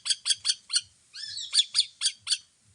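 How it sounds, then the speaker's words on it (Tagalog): A baby hawk gives a quick series of sharp, squawking calls in two bursts, broken by one longer wavering squeal, loud and close with no talk. "Maliliit na klase ng lawin sila."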